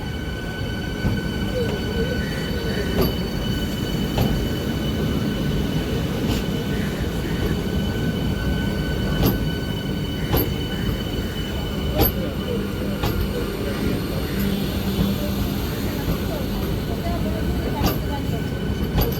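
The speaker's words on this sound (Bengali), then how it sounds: "ট্রেন চলে এসছে রানাঘাট জংশনের 5 নম্বর প্ল্যাটফর্মে।" A Sealdah–Ranaghat AC local train pulls into Ranaghat Junction platform 5 with a loud, steady rumble and periodic clicks of wheels over rail joints. Occasional faint squeals ride over the noise.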